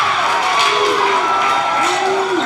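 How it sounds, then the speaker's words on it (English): A basketball crowd at a Hartington-Newcastle vs Walthill boys' game lets out a long, low, drawn-out moose call, rising and falling in sustained waves over general arena noise. "In the crowd, you hear the call of, it's not a boo, it's a moose call."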